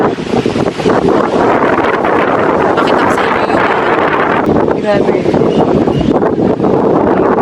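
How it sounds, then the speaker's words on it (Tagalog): Strong wind roars and buffets the microphone continuously, with a person speaking briefly over the steady gusting. "Ang lakas ng hangin."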